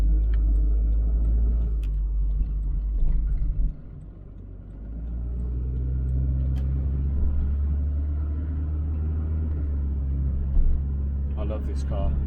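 Engine of a 34-year-old Volvo 740 running while driving, a steady low rumble that continues throughout with a brief dip partway through, heard from inside the car.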